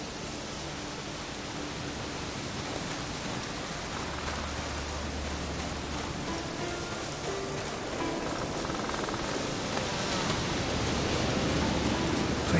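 Steady rainfall in the video game The Witcher 3, a continuous broadband hiss of falling rain at even loudness, swelling slightly toward the end with no voices over it.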